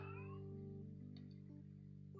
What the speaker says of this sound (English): And the cat noises on the background.